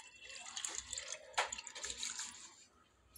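Water from a glass is poured into a pot of simmering nalli nihari, a mutton shank stew, in a home kitchen, making a short splashing pour with a brief louder gush midway.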